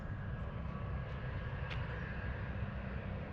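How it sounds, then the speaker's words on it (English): A steady, broad roar of an aircraft engine winding up as if about to take off, heard from a distance at an outdoor military museum park, continuous and even throughout with no talking. "sounds like an aircraft is about to take off"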